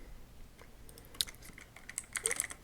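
Typing on a computer keyboard, with a short run of light, quick clicking keystrokes that grows busier toward the end, close and clear over faint background hum.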